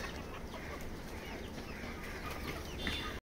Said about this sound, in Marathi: एकदम भारी अशा ओरिजिनल गावठी कोंबड्या आहेत